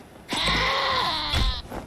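A goat in the Wasteland 2 video game gives one loud, drawn-out bleat, held steady for over a second and close by, with no talk over it.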